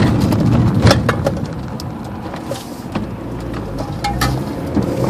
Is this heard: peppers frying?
no